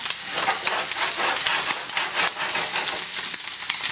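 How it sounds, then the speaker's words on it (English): Food fries steadily in a hot pan, a close, continuous bright sizzle with small crackles and pops throughout, without speech. "we're just going to let them cook for just a couple more minutes"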